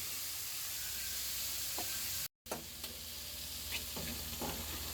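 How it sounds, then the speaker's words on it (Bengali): Carrots and green peas fry lightly in a pan with onion and green chilli, a soft, steady sizzle with a few stirring scrapes and a momentary dropout partway through. "আমি গাজর আর মটরশুঁটি কিছুক্ষণ ভেজে নিয়েছি"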